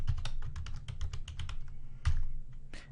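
Rapid keystrokes on a computer keyboard while entering a Cisco CDP configuration command, an irregular burst of close, crisp clicks followed by a brief pause and a few final taps.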